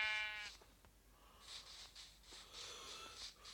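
A sheep in Minecraft Pocket Edition gives a short, wavering bleat, followed by faint rustling and game ambience at low volume.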